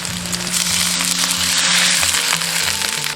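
Water poured into a hot wok of frying minced pork with diced shiitake mushrooms, shallots and ginger sets off a loud, steady, close sizzle that hisses continuously for several seconds without a break.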